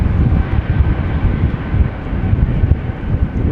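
A KLM airliner at Amsterdam Schiphol, flight 1323 bound for Krakow, takes off with a loud, rumbling low engine roar buffeted by wind noise, continuous and close, with no voices.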